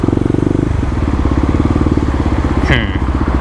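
A Kawasaki KLX250 motorcycle fitted with a 13-tooth sprocket idles loud and close, its single-cylinder engine pulsing in a steady rapid thump, with a brief rising rev near the end.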